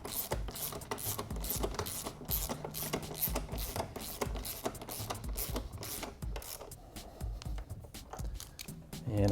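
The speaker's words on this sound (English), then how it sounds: "I'm just gonna bottom this out with my regular ratchet." Steady rapid clicking of a hand ratchet driving a frame slider bolt home on a 2013-or-later Honda CBR600RR sportbike, close up and continuous, with no talking.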